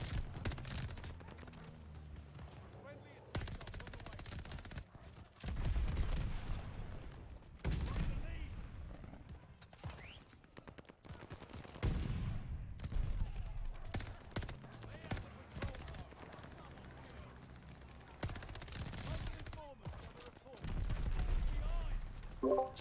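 Gunfire from a weapon in Call of Duty Vanguard: repeated bursts of automatic shots with booming low thumps, mixed with game effects and a player talking over the action.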